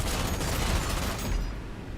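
Dense, continuous gunfire from mechs in the PC game Mecharashi, a loud, roaring rattle of rapid shots that fades somewhat toward the end.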